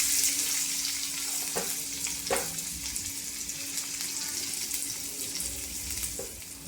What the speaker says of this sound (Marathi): तेल तापल्यावर त्याच्यात जाणारे लसूण, आणि लसूण थोडासा ब्राऊन व्हायला लागला की कांदा